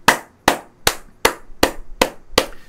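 Seven crisp hand claps ring out close and alone, in a steady, slightly slowing rhythm of about two claps per second, each with a short, bright decay.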